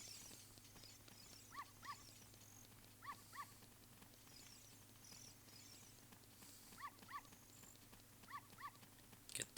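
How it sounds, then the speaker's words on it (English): A dog in Zelda: Ocarina of Time gives short, faint barks in pairs at intervals over a quiet, steady game background hum. "Dog."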